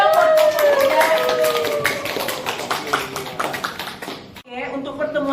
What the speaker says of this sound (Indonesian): Tepuk tangan dong buat kelompok